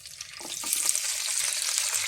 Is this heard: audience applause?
no